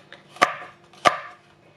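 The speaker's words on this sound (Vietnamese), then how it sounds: "Ớt khô cắt cho nó nhỏ ra vậy" A knife chops dried chili on a cutting board in a home kitchen, two sharp, close knocks about half a second apart, each followed by a short rustle.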